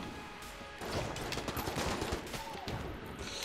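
AK rifle fire during a boss fight in the game Enter the Gungeon, a dense, continuous barrage of rapid shots and impacts layered with chaotic game effects, loud and sustained throughout.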